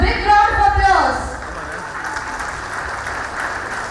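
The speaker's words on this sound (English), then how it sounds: "Let's welcome them with a big round of applause." Audience applause at a school spring festival as grade 4 pupils come on stage, loud clapping and crowd noise that swells briefly and then settles into a lower, steady wash.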